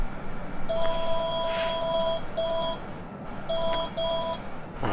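A telephone rings in the background with repeated electronic double-tone bursts, broken by short gaps, fairly faint under a steady room hum.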